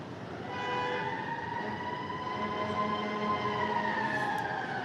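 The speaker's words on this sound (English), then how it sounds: "Hear the sirens?" Sirens wail from a distance, long sustained tones sliding slowly in pitch over a low rumble, with no one speaking.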